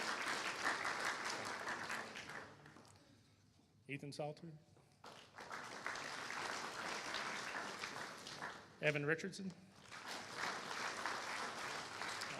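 Audience applause at a high school awards ceremony rises in sustained waves, broken twice by a speaker reading out names over a public address system before clapping resumes.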